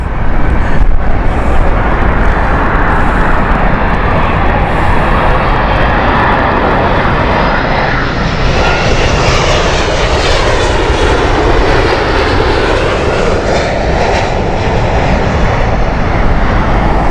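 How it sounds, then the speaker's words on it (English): A United Boeing 777-200 jet at Heathrow Airport makes a loud, continuous roar that swells and shifts in pitch as it passes, steady throughout with no speech. "this is the 777-200 from San Francisco. This is United 948. That's a 24-year-old aircraft"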